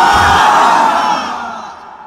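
A large crowd at a Bangla religious sermon gathering roars back in unison, a loud, sustained collective shout that swells and then fades over about two seconds.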